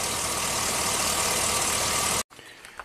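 A GM truck engine idles with a misfire, a loud, close, steady rumble that runs unbroken and then cuts off abruptly near the end, leaving faint background noise.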